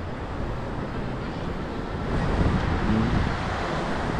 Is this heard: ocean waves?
yes